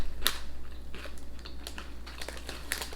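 Bacon-flavoured UK crisps crunched while eating, with a sharp loud bite followed by a run of close, irregular crunchy chews.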